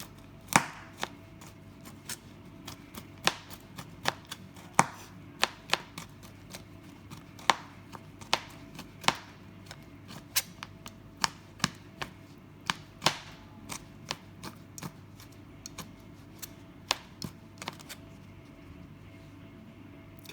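Knife chopping hazelnut and chocolate chunks for a chocolate hazelnut cheesecake, a long steady series of light, sharp taps on a cutting board at an even, unhurried pace, close but soft, no talking.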